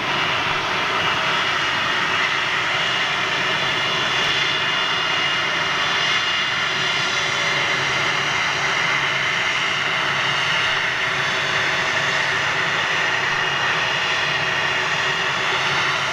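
Airbus A330 airliner landing at Manchester Airport, its jet engines a steady, distant roar and whine sustained at even loudness from start to finish with no voices over it.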